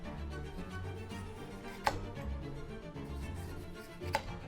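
A chef's knife cuts around a bell pepper on a cutting board, two sharp chops standing out over a steady low kitchen background.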